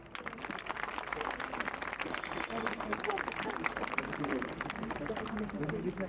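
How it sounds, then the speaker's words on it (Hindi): Steady applause fills a church hall at a Christmas cantata as the pastor is honoured with a bouquet, a sustained patter of many hands clapping at moderate distance with crowd murmur beneath. "जोरदार तालियां प्लीज"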